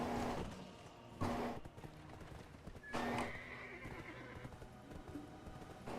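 A horse in the video game Black Desert Online whinnies loudly twice, separated by a couple of seconds, while hooves clip-clop steadily underneath, clean and close with no talking.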